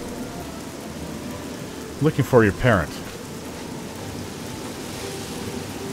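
Steady rain falls in Cyrodiil in the video game Oblivion, an even hiss that continues throughout, while a voice briefly speaks partway through.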